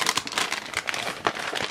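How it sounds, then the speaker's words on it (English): Scissors and hands open a package of kids' foldable earmuffs, with close, continuous crinkling and rustling of plastic packaging in dense irregular bursts and no voices. "let's go ahead and open the package and see what we got"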